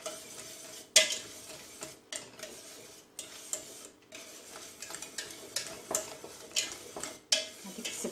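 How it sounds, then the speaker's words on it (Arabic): Butter is stirred into lemon tart filling in a pot, giving quiet, irregular scraping and clinking of a utensil against metal with faint sizzling, close by. "غادي نزيد لها 2 معلقه ديال الزبده ونحركها مزيان"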